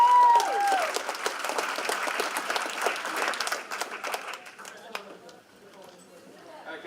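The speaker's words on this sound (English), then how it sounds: "Oh, you guys can clap for Denise." A gala audience claps steadily for several seconds, the applause thinning and fading toward the end, with some voices mixed in.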